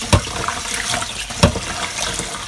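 Rice being rinsed in water during preparation of a Nigerian ayamase sauce, a steady wash of running and sloshing water with two brief louder splashes, no talking.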